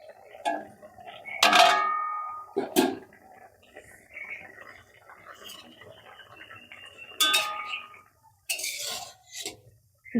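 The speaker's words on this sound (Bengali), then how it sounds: "ঢাকাটা খুলে দেখে নেব" Metal lid lifted off a cooking pot of simmering pointed gourd curry in a home kitchen, giving a few sharp clanks and scrapes amid quieter bubbling and light kitchen clatter.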